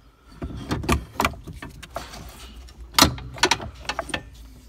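A JCB steering wheel is worked off its splined column, giving a scattered series of sharp metallic clicks, knocks and rattles, close up with quiet pauses between.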